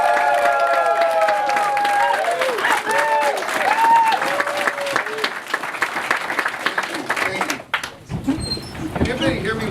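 Loud audience applause and cheering from a crowd, with whoops and excited voices shouting over continuous clapping that dies down near the end.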